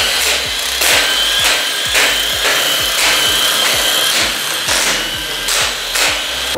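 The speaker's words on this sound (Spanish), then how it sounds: "con un dado 8 milímetros, vamos a retirar todos los tornillos" A ratchet with an 8 mm socket works through the engine cover bolts on an MB Tekken 250 motorcycle, giving a steady run of dense, rasping clicks in rapid, even strokes, close and loud with no talk.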